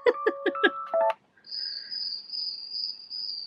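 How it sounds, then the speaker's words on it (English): A white noise machine: a few quick electronic beeps give way to a sustained high-pitched chirring, like crickets or cicadas, steady and fairly quiet. "That's crickets or cicadas."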